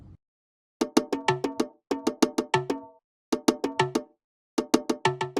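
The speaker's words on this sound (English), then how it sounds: "Here's how the bongos sound for this drum loop." Bongos tap out a crisp, repeating pattern of quick hits in short bursts, separated by brief pauses, close and clear with no voices.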